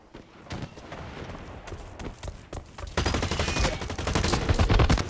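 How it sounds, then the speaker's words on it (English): Rapid bursts of gunfire in the shooter game Blacklight Retribution, dense overlapping shots that swell louder in the second half with sharp cracks over a steady rumble, no talking. "Way too much shooting around me for not knowing where it's coming from."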